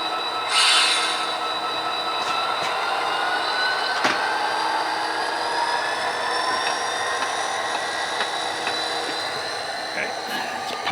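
A model train runs on a layout with a steady rolling hum, thin squealing tones and a few faint clicks and clacks.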